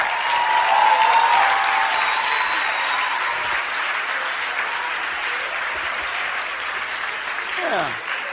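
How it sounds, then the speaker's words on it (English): A large audience at a leadership talk breaks into sustained, dense applause with crowd cheering and whistles mixed in, steady and loud before tapering slightly. "Clap, clap, clap, clap, clap."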